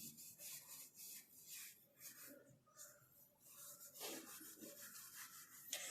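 Aluminium foil rubs over motorcycle chrome in soft, repeated scrubbing strokes, a quiet rasping swish close by with no voices.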